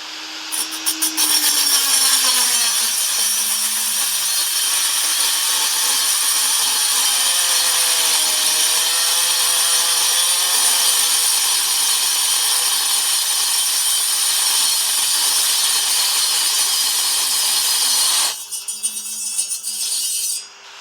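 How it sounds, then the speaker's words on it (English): A Dremel 3000 rotary tool cuts through a piece of metal with a loud, continuous high-pitched grinding whine, its pitch wavering slightly under load for nearly twenty seconds before it stops. "Now let's look at another scenario, cutting a piece of metal like this."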